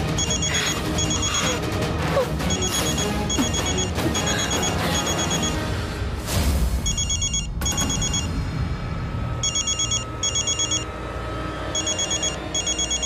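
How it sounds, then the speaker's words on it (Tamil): A telephone rings in repeated paired bursts through a dramatic scene of a Tamil TV serial, the rings sitting over loud music with a crash midway. "ஃபோன் அடிக்குது."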